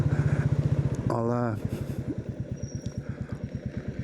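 Royal Enfield Classic 350 motorcycle thumping steadily while riding, its single-cylinder beat loud and close, with a brief rising rev as it shifts back into gear and settles into a regular pulsing rhythm; a voice talks briefly near the start.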